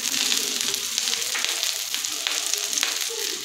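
Sliced onions, garlic cloves and ginger frying in a little hot oil over medium gas, a steady close crackling sizzle with occasional louder pops, continuous throughout.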